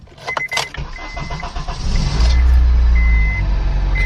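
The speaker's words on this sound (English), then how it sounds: "I'm gonna go ahead and start up the car just to make sure that it runs." A few electronic chime beeps sound, then an Acura RSX engine cranks and catches, settling into a loud, low, steady idle close by.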